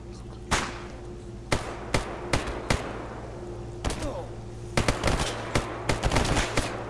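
Bandits firing guns in STALKER GAMMA, with sharp single shots and short bursts cracking at irregular intervals, some of them distant, over a low steady hum, and a voice talking briefly.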